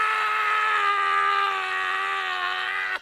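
A single long, loud scream in a village horror tale, held steadily for about three seconds before it cuts off abruptly. It is strained and intense, with no other sounds around it.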